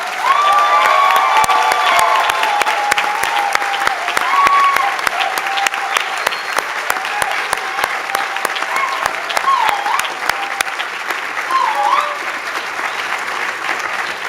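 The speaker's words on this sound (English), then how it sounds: "please join me in a round of applause for all the people who have supported your journey" A large crowd at a graduation ceremony applauds continuously for many seconds, dense clapping with some cheers and shouts mixed in, gradually thinning toward the end.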